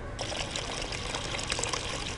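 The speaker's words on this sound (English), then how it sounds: "Pour it out into a cup and then we can serve it." Liquid poured into a cup in the Job Simulator video game, a short continuous splashing trickle heard alone and fairly close.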